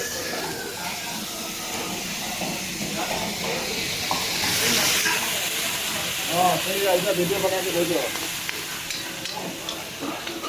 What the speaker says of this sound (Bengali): পানিটা দিয়ে একটু নাইড়ে ছেড়ে দিলাম।